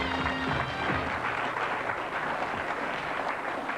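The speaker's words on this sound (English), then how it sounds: "Nice round of applause." Studio audience applause on the Yorkshire game show Winner Takes All, a dense, steady wash of clapping that holds at an even level throughout with no pauses.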